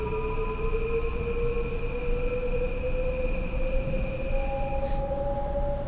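Metro North M8 train in Train Sim World 6, pulling away with a continuous low rumble under rising electric motor whine tones, steady and close throughout.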